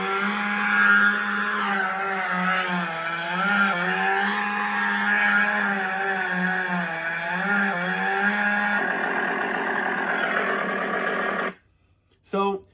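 Electronic chainsaw prop replica of Ash's chainsaw from Army of Darkness playing a continuous recorded engine-running sound with a wavering idle rumble, steady and fairly loud, before cutting off abruptly near the end.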